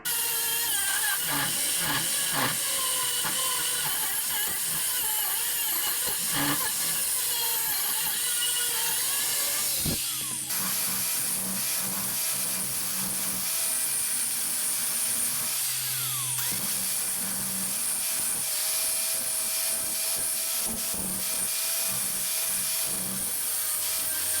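A power tool cuts off a piece of metal for motorcycle mid controls, giving a loud, continuous high-pitched grinding whine close up, with shifts in pitch and load throughout.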